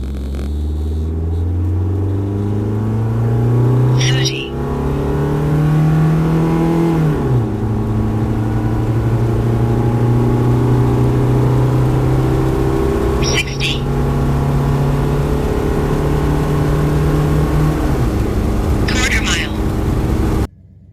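A 1986 Plymouth Reliant with a 2.2 engine and automatic transmission drives steadily, its mid-pitched engine drone rising and falling through gear shifts with continuous rumble, while a person talks over it.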